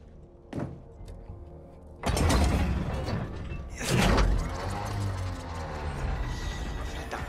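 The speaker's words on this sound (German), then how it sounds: "Edwards, starte den Motor." A World War I tank engine starts in Battlefield 1. A mechanical clunk comes first, then a loud rumbling roar kicks in, surges again a moment later and keeps running as a heavy, steady drone.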